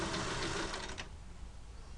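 A sewing machine stitches a sleeve, its fast, steady mechanical whirr running loud for about a second and then cutting off, leaving quiet room noise behind.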